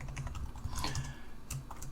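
Rapid, close keystrokes clatter on a computer keyboard while typing into a text editor, a quick irregular run of clicks with no speech.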